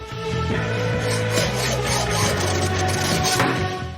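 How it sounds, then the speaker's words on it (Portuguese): A hand saw cuts off the ends of a guitar fret wire held in locking pliers, giving a steady, close, loud rasping stroke that runs continuously without pauses. "ele tem as duas pontas que não dá para usar, então ele tem que cortar fora."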